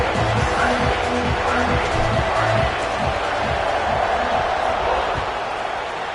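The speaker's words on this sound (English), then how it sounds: "this crowd is buzzing after that last score" A football stadium crowd at a South Carolina versus UCF game, a loud dense roar that holds steady after a score, with a commentator talking over it throughout.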